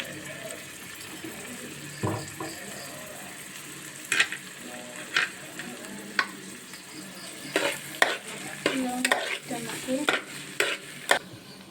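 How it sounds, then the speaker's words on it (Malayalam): Onion with crushed garlic, ginger and green chilli sautéing for a chicken curry, giving a soft low sizzle broken by repeated scraping stirs of a spoon against the pan, which come thicker toward the end. "ഇത് നല്ലോണം വഴറ്റണം കേട്ടോ."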